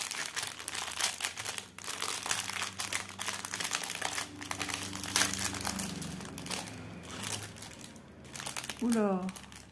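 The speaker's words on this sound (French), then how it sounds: "va mettre 3 heures à ouvrir une pochette" A sticky plastic pouch from a diamond-bead craft kit crinkles and crackles as it is slowly pried open, the rustling close and continuous under a person talking.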